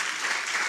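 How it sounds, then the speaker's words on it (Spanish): A congregation at a Spanish-language church service applauds, a brief dense burst of clapping at steady volume. "Dele un aplauso a Dios porque Él es perfecto."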